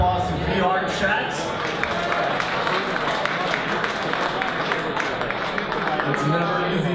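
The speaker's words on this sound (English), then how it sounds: "Another round of applause to VR Chat." A meetup audience at the Computer History Museum gives a steady round of dense applause, clapping evenly throughout with voices mixed in.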